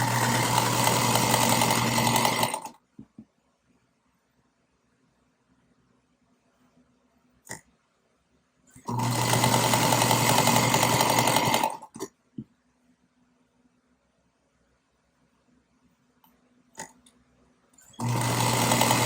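A sewing machine stitches quilt squares together in three loud bursts of rapid, steady whirring and clatter, separated by near silence with faint clicks and a low hum.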